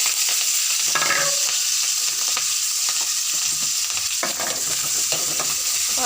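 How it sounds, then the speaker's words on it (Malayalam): Small onions, shallots, fry in a pan for theeyal with curry leaves, giving a continuous bright sizzle and occasional scraping stirs of a spoon, close and steady with no talking. "ഇപ്പം നമ്മൾ കൊച്ചുള്ളിയാണ് ഇട്ടിരിക്കുന്നത്"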